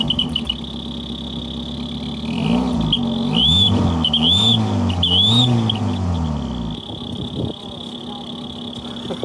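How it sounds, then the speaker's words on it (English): A car idles with a whistle wedged loosely across nearly the full width of its exhaust, producing a loud, wavering whistle that rises and falls over the steady engine drone before cutting out, leaving the bare idle. "It sounds just like someone's put a whistle on the car."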